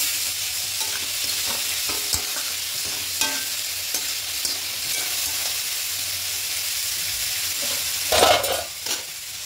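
Spinach curry with fish head is stirred and sizzling in a pan, a steady frying hiss with repeated scraping strokes of a utensil, close and continuous, with a louder scrape near the end.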